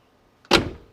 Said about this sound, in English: Wonderful door closures.